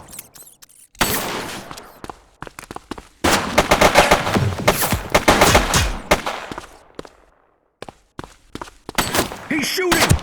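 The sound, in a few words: gunfire in the video game The Precinct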